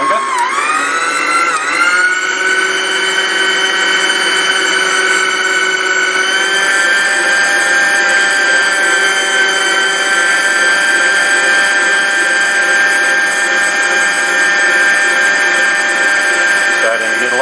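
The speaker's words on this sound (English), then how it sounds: "You can see it increase with each time the motor's asked to do more work." A kitchen mixer motor whining steadily at high speed while whipping cream into butter, a loud sustained tonal drone that dips briefly at the start, then holds a constant pitch before easing near the end.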